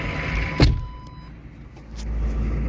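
A 1995 Chevy 3500 with a 6.5L diesel idles after a sputtery cold start on a chilly morning. A sharp click comes first, then a low, steady engine rumble that grows slightly louder near the end.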